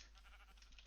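Sheep bleat in modded Minecraft, a faint synthetic bleat playing quietly over a steady low hum for under a second, with no voices.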